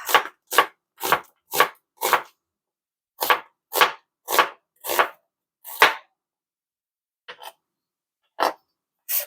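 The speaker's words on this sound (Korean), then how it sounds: "양파를 자른다" A knife chops through an onion on a cutting board in crisp, evenly spaced strikes, two quick runs of about five cuts each, then a few scattered single chops, close and clear.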